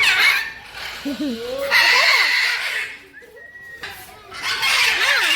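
Clucking and squawking fowl calls come in bursts close by in a Mysore Zoo aviary, with a brief whistle-like tone and chatter in between.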